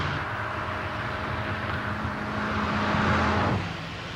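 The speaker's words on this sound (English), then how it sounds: "Here, the test driver negotiates the inner circuit for the 5th time today." A Volkswagen test car circles the inner circuit of the Ehra-Lessien test track, a steady engine and road drone that swells as it passes close, then drops away.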